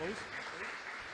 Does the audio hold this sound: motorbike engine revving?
no